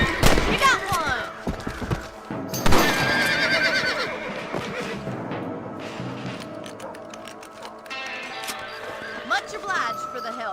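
Horses whinny and neigh loudly several times in a video game, with hooves clip-clopping and a scatter of distant gunshots, in a dense, busy mix that stays fairly loud throughout.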